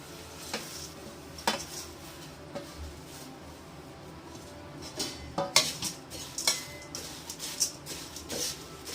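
Red flattened rice (aval) is dry-roasted in a pan on low heat, with a dry rustling scrape and frequent metallic clinks of the spatula against the pan, growing busier toward the end.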